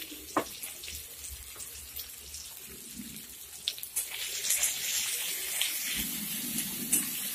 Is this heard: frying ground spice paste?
yes